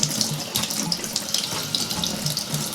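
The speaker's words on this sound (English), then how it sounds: "So now I'm going to wash the ginger." Tap water running over fresh ginger root in a sink, a steady close splashing stream with small fluctuations as the root is rinsed under it, alone without talk.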